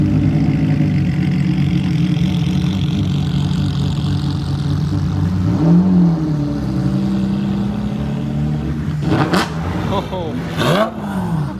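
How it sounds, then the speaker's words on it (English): Four Ferraris with gated manual gearboxes pull out together at a rare car meet, engines droning steadily then rising in loud revving bursts near the end, with people talking over the rumble. "About to all pull out together. 4 gated manual Ferraris."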